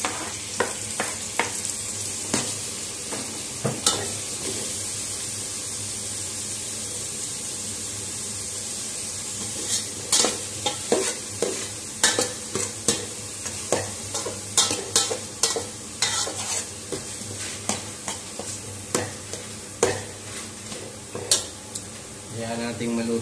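Tomatoes and onions frying in a pan, a steady sizzle broken by a run of sharp scraping stirs that grow busier toward the end, no voices.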